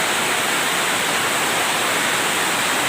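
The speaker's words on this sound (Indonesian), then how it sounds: "Ini hujannya lebat." Heavy rain pours down in a village in Nagan Raya, Aceh, making a dense, steady, loud hiss that fills the whole clip without any pause, and no voices are heard.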